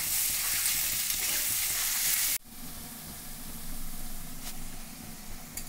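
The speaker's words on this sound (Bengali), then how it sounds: "পেঁয়াজগুলো একটু লাল লাল করে ভেজে নেব" Onions fry in oil until browned for chicken biryani: a loud, bright sizzle for about two seconds, then an abrupt drop to a softer, steady frying hiss with faint stirring.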